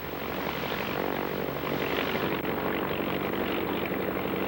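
Racing airplanes at the Thompson Trophy air race roar by with a loud, continuous propeller-engine drone that holds steady throughout.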